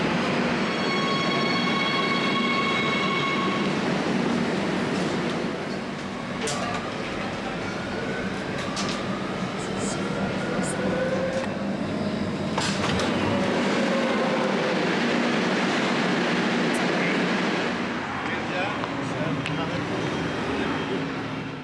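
A metro train heading to Madrid rumbles steadily from inside the carriage, with a constant roar of wheels on track, occasional squeals and whines rising and falling, and faint clunks, loud and continuous.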